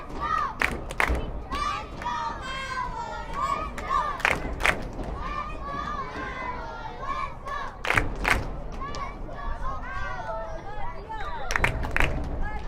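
A large soccer crowd roars and cheers loudly after a goal, with sustained shouting and bursts of excitement rising throughout.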